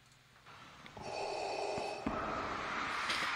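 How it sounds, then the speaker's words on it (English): Heavy, masked breathing like a Star Wars helmet, part of a K-pop music video, rasps loud and steady over a synth music bed. "Ooh, heavy breathing."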